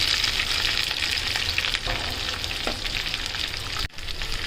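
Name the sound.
garlic and chopped wild karttoli vegetable frying in pan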